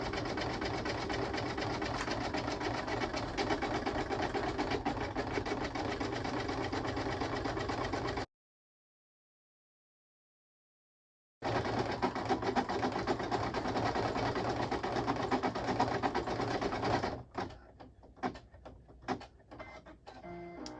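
Embroidery machine stitching a soft keytag, producing a loud, rapid, steady mechanical clatter, breaking off for a few seconds of silence, then resuming and ending in a handful of short stuttering bursts.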